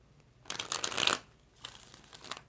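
Tarot cards shuffled by hand in two quick bursts, a longer riffling stretch followed by a shorter, softer one, close and crisp with no talking.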